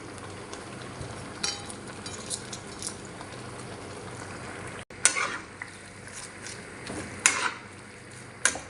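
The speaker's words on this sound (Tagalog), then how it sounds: "Ilalagay ko na nga po itong repolyo." Shredded cabbage stir-frying with chicken in oyster sauce sizzles steadily at moderate volume, with scraping and clinking stirs that grow busier toward the end.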